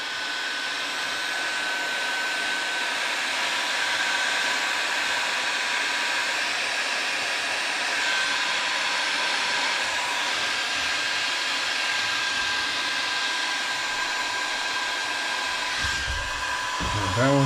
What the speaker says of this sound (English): Alright, now we'll go grab the heat gun. Alright, we got the heat gun.